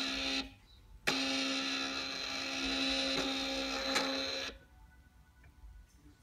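An Epson DTG 2880 printer runs its ASF assembly sequence, a loud, steady mechanical whir with a sharp clack at the start, a click near the end, then an abrupt stop to quiet.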